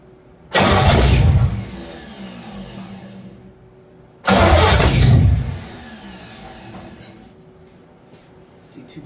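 An old car engine left abandoned in a field is cranked twice. Each attempt makes a loud, rough burst of cranking and firing lasting about a second, then fades, with only faint background noise between.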